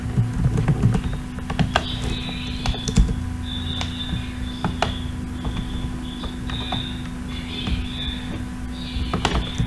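Rapid clicking keystrokes on a computer keyboard as code is typed, close and fairly loud, in uneven bursts over a steady low electrical hum.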